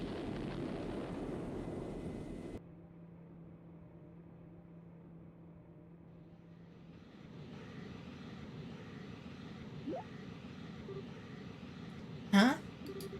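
Airship boosters firing up in the Trails in the Sky video game, a broad roaring engine rush that cuts off abruptly, then a steady mechanical hum with a sharp whoosh burst near the end, no speech.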